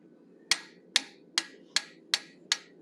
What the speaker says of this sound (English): Then I'm going to use the 1/8 inch fuller.